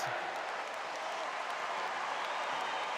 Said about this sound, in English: As they call out Denmark, France in the final, and a big cheer.